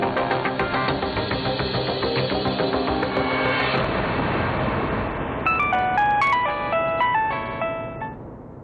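A phone's electronic ringtone plays over steady background noise, with a bright melodic tone pattern near the end as a call to Nadir goes through.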